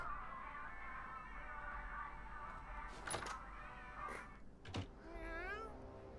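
A cat in South Park: The Fractured But Whole meows twice, short and clear, over a steady electronic hum and faint background sounds.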